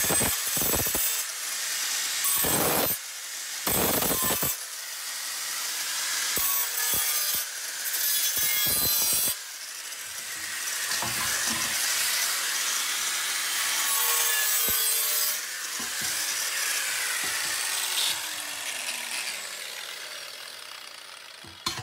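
GRAFF diamond disc on an angle grinder trims the burr off the cut edge of a steel gas cylinder, giving close, loud bursts of gritty scraping and grinding broken by short pauses, then a longer steady grind.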